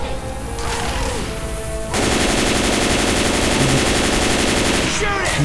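Heavy gunfire in the zombie shooter game Left 4 Dead 2 builds into a loud, continuous barrage of rapid shots over a dense mix of game sounds, up close.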